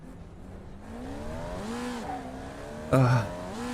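An engine drones with a rising and falling pitch as a car nears, with a short sharp burst of louder sound near the end.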